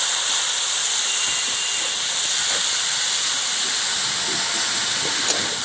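Boiled banana flower sizzling in a pan with ginger and garlic, a steady, close, bright hiss that runs throughout with faint crackles and no speech.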